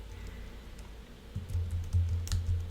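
Quick keystrokes on a computer keyboard while code is entered, a close, fairly quiet run of clicks starting after a brief pause and continuing to the end, with no voices.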